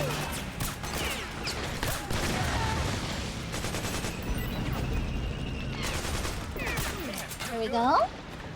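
Bursts of automatic gunfire from the video game Metal Gear Solid 4 come in several clustered volleys over a continuous battlefield din, ending with a sharper swell.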